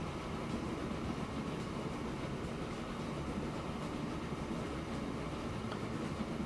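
Train running in the rail simulation game Transport Fever 2, a steady, low, continuous rolling rumble with faint rhythmic clatter, held at an even, moderate level throughout.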